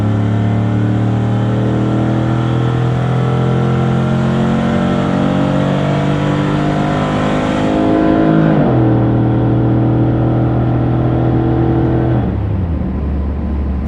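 A 2002 Chevy Suburban drag racing against a Mustang at Speed World Orlando, its engine roaring loud and close as it winds up through the gears, with clear shifts before it eases off.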